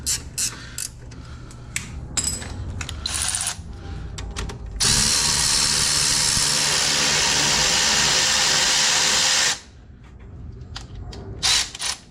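An impact or power tool spins off the top and bottom brake caliper bolts on an Infiniti M37X, with a loud steady whir of about five seconds between shorter mechanical bursts, clanks and rattles, and no talk.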